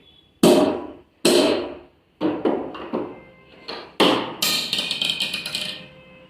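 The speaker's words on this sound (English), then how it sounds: "We will hammer it a bit" A screw is hammered into PVC casing capping on a wiring board, with a series of sharp taps, a few hard separate blows then quicker lighter strikes, close and loud.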